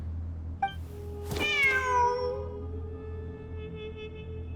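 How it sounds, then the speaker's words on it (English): A cat meows in the video game Genshin Impact, one clear drawn-out meow rising and falling over a quiet game ambience with a steady tonal hum, followed by lingering tones. "Wait, there it is! The cat!"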